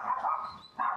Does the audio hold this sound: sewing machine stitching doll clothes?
no